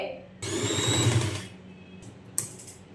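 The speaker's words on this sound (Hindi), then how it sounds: "अब इस तरह से अपनी फैब्रिक पट्टियों को यहाँ पे एक सिलाई लगा देंगे अंदर वाली साइड पे" A sewing machine stitches fabric strips onto the inside of a Chinese-style shirt collar, running in one steady burst of about a second, then going quiet apart from a brief mechanical click near the end.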